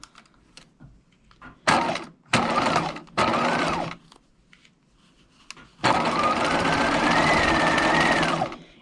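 Sewing machine stitching a coat pocket on a swing coat, heard as three short bursts of stitching followed by one long steady run, close and loud, with no voices.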